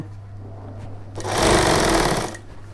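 Sewing machine stitching a shirt collar, a low motor hum that breaks into a loud, rapid, even run of needle strokes for just over a second before easing back to the hum.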